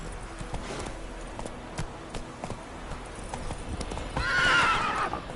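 Roach, a horse in The Witcher 3, clip-clops along at a steady pace in a game world, hoofbeats close and even, with a brief whinny near the end.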